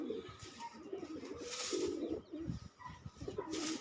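Tank-type pigeons coo in repeated low, murmuring phrases over roughly four seconds, steady and fairly close, with a few soft chirps and no speech.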